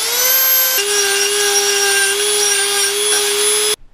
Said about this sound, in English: You gotta get your Dremel into some of the angles, but it's working out pretty good.